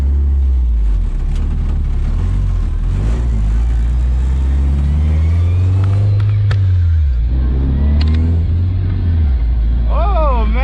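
A Toyota Corolla TE72 fitted with a 3SGE engine drives along, its loud steady engine drone rising and falling with throttle as rattles come through the cabin, while someone talks over it.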